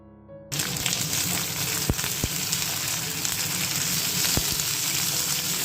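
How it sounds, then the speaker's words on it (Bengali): Eggplant and potato fry in a pan with five-spice, green chilli and bay leaf: a steady, close sizzle starts abruptly and continues, with a few faint clicks of the utensils. "5 ফোড়ন, কাঁচা লঙ্কা, তেজপাতা এসব বেশি ভেজে নিচ্ছি।"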